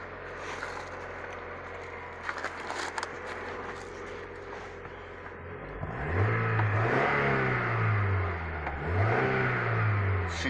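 A 1990 Mazda Miata engine idling, then revving up and down in several smooth swells, close and loud with a steady mechanical hum underneath, no speech.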